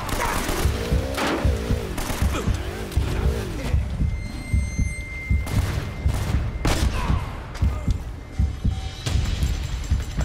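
Enemy gunfire in Uncharted: Drake's Fortune comes as dense, overlapping bursts of shots, with crashes and impacts throughout. Game music or engine tones run underneath, and no one speaks.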